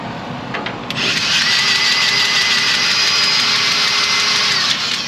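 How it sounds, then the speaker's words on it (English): A pneumatic grease gun greasing trailer sliding axles whirs steadily, then its motor revs higher and stays loud and strained as it runs out of grease, close up with no voices. "Anytime you hear the RPMs pick up on the grease gun, that typically means you're out."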